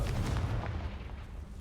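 A deep, booming blast from the Confringo spell in the video game Hogwarts Legacy rumbles briefly and fades out.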